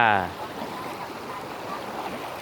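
Floodwater flows in a steady broadband rush, a continuous moderate wash of moving water with a brief tonal sound at the very start.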